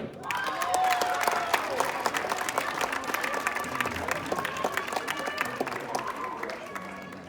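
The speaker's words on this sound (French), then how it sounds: "s'il vous plaît, un tonnerre d'applaudissements" Audience applause for a comedy sketch at a telethon variety show, a steady dense clapping that fills the whole stretch with a crowd murmur underneath.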